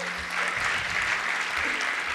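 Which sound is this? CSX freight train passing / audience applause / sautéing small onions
audience applause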